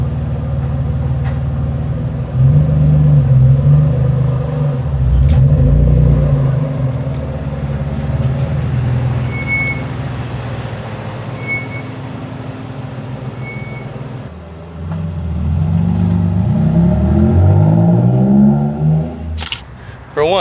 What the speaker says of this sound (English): then I'm gonna go on a test drive